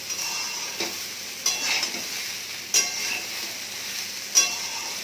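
Mixed vegetables, including ridge gourd, fry in a pan with a steady sizzle, broken by a few louder stirring scrapes and light clinks of a utensil against the pan.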